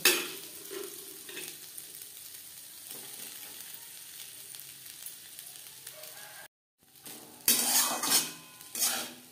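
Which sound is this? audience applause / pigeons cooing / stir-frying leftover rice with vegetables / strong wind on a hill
stir-frying leftover rice with vegetables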